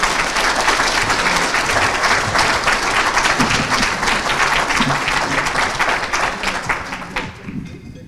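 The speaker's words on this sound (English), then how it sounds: "Please give a round of applause for all these deserving students" Audience applause at a scholarship awards night honoring students, a dense, steady roar of many hands clapping close by for about seven seconds before thinning and fading toward the end.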